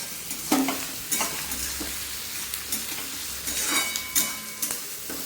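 Banana flower pakoras shallow fry in a pan, sizzling steadily and fairly quietly while a utensil stirs and scrapes several times.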